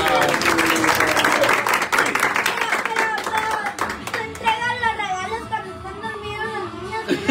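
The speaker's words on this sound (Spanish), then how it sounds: "El aplauso fuerte." Loud clapping breaks out at a family Christmas gathering at home, brisk and close for a few seconds before thinning out as adults and children chatter.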